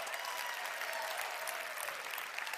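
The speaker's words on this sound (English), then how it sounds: "Give yourselves a round of applause." An audience applauds at a live venue event: dense, steady clapping that holds at an even level for the whole stretch, with no voices rising above it.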